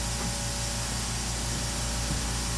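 Compressed air hisses steadily from a Fog Buster coolant nozzle on a Tormach 770 mill, a loud continuous spray with a faint pulsing hum underneath and no pauses.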